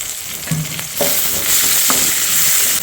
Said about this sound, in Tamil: இதை நல்லா வதக்கிக்கங்க